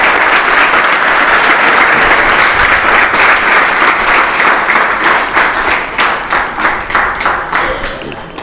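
A seated audience at a career-guidance quiz event in Parbhani breaks into loud, vigorous applause, a dense clapping roar that holds steady and then thins into more separate claps as it fades.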